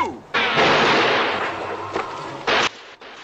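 Gunfire from a 1962 western film, Ride the High Country, heard as a loud sustained burst of shots with a sharp second blast near the end, close and dominant with no talk over it.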